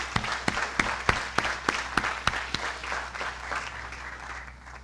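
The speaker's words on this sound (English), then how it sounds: "Let's give our faculty and staff a round of applause too" A commencement crowd applauds faculty and staff with dense, steady clapping, and a few sharp individual claps stand out near the front before the applause fades toward the end.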